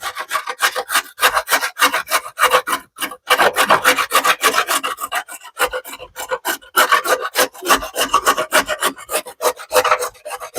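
Carrots are grated by hand on a grater for a carrot pineapple cake, a close, dry, rhythmic rasping of quick repeated strokes with brief pauses between runs.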